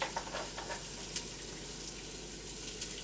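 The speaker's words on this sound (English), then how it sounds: "I'll go ahead and drop the brats in, brown them up." Bratwurst frying in butter with a little vegetable oil in a kitchen pan, giving a soft, continuous sizzle with faint pops and crackles throughout.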